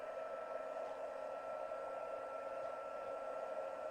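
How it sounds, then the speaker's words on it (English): A heat gun runs steadily as a continuous airy whoosh with a constant motor hum, close and unchanging for the whole stretch, with no talking over it. "So I'm going to heat up my heat gun."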